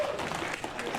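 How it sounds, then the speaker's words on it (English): Scattered crowd clapping at an independent wrestling show, a moderate wash of many hands filling the short moment with no single claps standing out. "Now you can clap, idiots."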